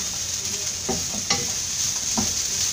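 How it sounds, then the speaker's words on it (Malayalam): Shallots, garlic and curry leaves fry in oil in a pan for a Kerala breadfruit curry, a constant close sizzle broken by a few soft stirring scrapes, with no voices. "കുറച്ച് കറിവേപ്പില ഇട്ട് കൊടുക്കാം. ഇനി ഇതൊന്ന് മൂപ്പിച്ചെടുക്കാം."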